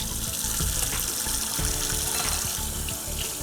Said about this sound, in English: So I'm rinsing all these parts.